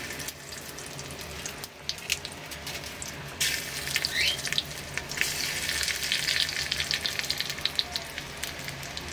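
Cumin seeds crackle in hot ghee, a dense frying sizzle with quick popping bursts that grows busier and louder partway through, heard close with no talking.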